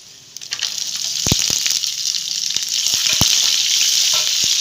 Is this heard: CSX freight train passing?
no